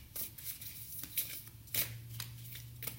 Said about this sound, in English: I'm going to take from the top of the deck once I've shuffled.